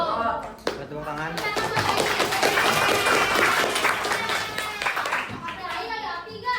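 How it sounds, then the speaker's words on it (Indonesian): An audience that includes children claps together in a burst of applause that swells and then fades, mixed with young voices and chatter. "Tepuk tangan."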